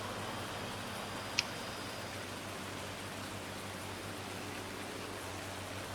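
Rain in Farming Simulator 19 while baling straw hisses as a constant, even wash over a low steady drone, with one brief tick partway through.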